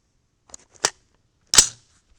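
Two sharp reports from a 300 Blackout rifle with a CMMG 8-inch barrel, spaced under a second apart and each decaying quickly into silence, with a few faint clicks just before the first.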